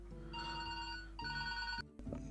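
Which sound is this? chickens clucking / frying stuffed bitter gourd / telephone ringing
telephone ringing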